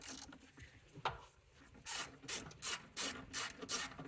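A ratchet loosens the 13 mm nuts on the battery hold-down bracket of a 2013–2019 Mercedes-Benz GL/GLS (X166), giving close, repeated bursts of clicking pawl strokes in a steady rhythm, with no talking.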